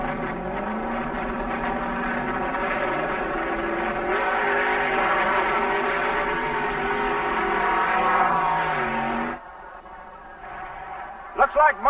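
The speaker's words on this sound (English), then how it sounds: "a handful of twin-engine gas dragsters running here this week at the Nationals" Twin-engine gas dragsters roar down the strip at the 1970 NHRA US Nationals, a long, loud, droning engine howl holding steady and then cutting off sharply, followed by a quieter tail with brief squeals at the end.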